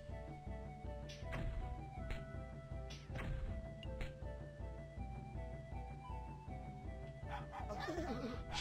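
A small dog monster barks in the Dofus Retro video game, with short yapping cries over busy game music and effects.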